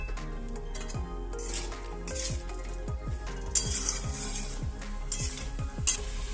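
Vegetables with boiled chickpeas and peas are stir-fried for a Chhath festival dish: a spatula scrapes and clinks against the pan in a steady, repeated rhythm over a soft, constant sizzle.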